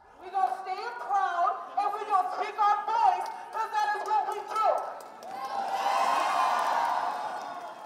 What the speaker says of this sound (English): chants could be heard as they walked